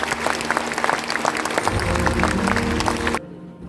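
Audience applause for a guest at a student presentation day in Kolkata, a loud, steady wash of many hands that cuts off abruptly near the end.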